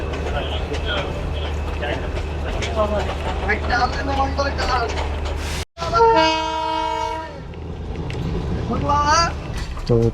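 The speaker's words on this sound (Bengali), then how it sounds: "ট্রেন আমাদের এখন ছেড়ে দিল রংটং স্টেশন থেকে" Darjeeling Himalayan toy train pulling out of Rongtong station, its loud horn blaring for about a second and a half over the rumble of the running train, with people talking before and after.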